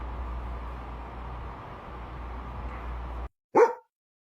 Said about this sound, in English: You whisper bark.